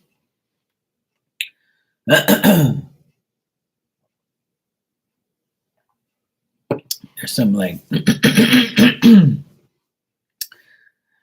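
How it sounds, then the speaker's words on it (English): A man clears his throat with a short, rough rasp, then again with a longer series of harsh guttural bursts, close and loud in an otherwise quiet room with a brief word spoken near the end. "Sorry, I had to clear my throat there."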